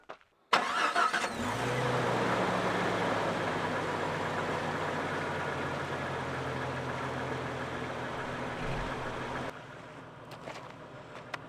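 A 1995 Jeep XJ with 293,000 miles cranks and fires up, then settles into a steady, loud, close idle that runs for about nine seconds before cutting off, with no talking over it.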